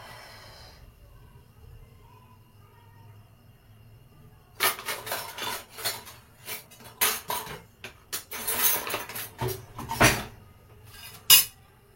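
Puran poli, a sweet lentil-stuffed flatbread, flipped on a hot pan for Holi: a quiet stretch, then a run of close, loud scraping and tapping clatters of the spatula and pan, ending in one sharp knock.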